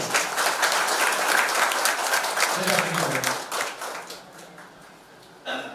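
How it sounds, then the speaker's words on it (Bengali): Audience applause at a felicitation ceremony for selected 2020 West Bengal Police constable candidates, dense clapping that is loud at first and then fades, with a short burst near the end. "তার জন্য জোরে হাততালি হলো"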